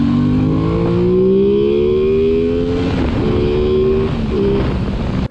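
Aprilia Tuono 660 twin-cylinder motorcycle engine revving on the move, a loud, close, rising growl with wind noise that holds through gear changes, dipping and climbing again before cutting off abruptly.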